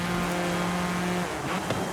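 An Audi in Forza Horizon 5 drives on asphalt with a steady, loud engine drone, then a shift in pitch near the end that suggests braking or turning, with no speech.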